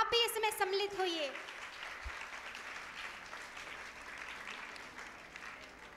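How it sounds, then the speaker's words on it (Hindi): An audience at a women's honor ceremony, a Shakti Parv event, breaks into applause, following a short burst of a voice over music, then settles into sustained, fairly soft clapping to the end. "तालियों से आप भी इसमें सम्मिलित होइए"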